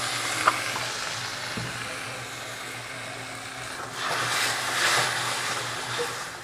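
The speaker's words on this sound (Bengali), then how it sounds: "একটু জল দিয়ে কষাবো" Taro and prawn curry sautés with a little water added, giving a steady bubbling sizzle with occasional stirring scrapes that grows louder and more hissy in the second half.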